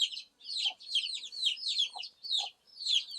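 Chickens in a coop beside a peach tree make rapid, high chirping calls in repeated bursts with short gaps, fairly quiet and close, with a few lower clucks mixed in.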